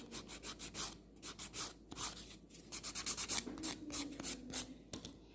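A sculptured acrylic nail is filed and then buffed smooth, giving quick rhythmic rasping strokes in short bursts, close and fairly soft, with no talking.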